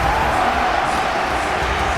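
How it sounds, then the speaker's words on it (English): A dense, roaring Tottenham Hotspur stadium crowd in PES 2021 cheering continuously for a couple of seconds, loud and sustained. "Listen to that Spurs crowd noise."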